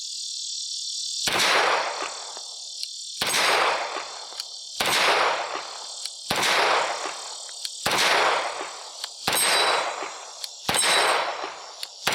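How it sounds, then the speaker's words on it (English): A Taurus TH45 pistol fires a first magazine of shots, six or seven loud sharp reports spaced roughly one to two seconds apart, each with a short decaying ring, over a steady high-pitched background hum. "let's put the first mag through this pistol and see how it shoots"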